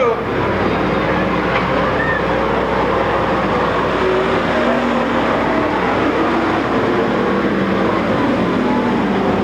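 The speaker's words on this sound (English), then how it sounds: "Car spinning, Mead spins, everybody avoids him in turn 2." Race cars thunder around a Watsonville speedway as one spins out, a loud, rough, continuous roar of many engines filling the scene, with no distinct skid standing out.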